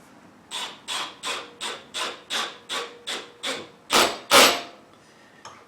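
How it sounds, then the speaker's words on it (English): A series of about ten evenly spaced, grinding bursts, each under a second, the last two louder and longer, as an electric drill's clutch slips and ratchets in short pulls. "I've got my drill set to slip, so we can see that if you hear a noise, that's what it is"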